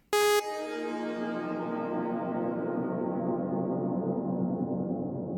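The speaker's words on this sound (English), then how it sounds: "let's have this reverb mix all the way and see what that sounds like" A short bright tonal burst is followed by a long, dense wash of reverb with feedback delay, from the LuxeVerb plugin in FL Studio 21 with the mix fully wet, that lingers and slowly decays, filling several seconds after the initial hit.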